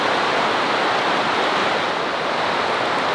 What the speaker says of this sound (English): Enjoy the sounds of the creek right behind us